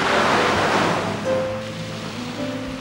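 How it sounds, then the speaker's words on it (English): Waves washing onto the shoreline of a shallow, deserted bay in New Zealand, a broad rushing surf swell that fades gradually, with a faint tonal hum running underneath. "with only the rhythmic sound of the waves breaking the peace of solitude"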